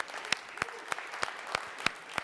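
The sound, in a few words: audience applause at Snapdragon Summit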